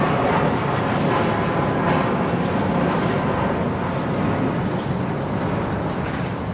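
Saudia Boeing 787-10 Dreamliner taxiing onto runway 09 right at Heathrow, a loud, continuous broadband jet rumble that stays even and unbroken, with no talk.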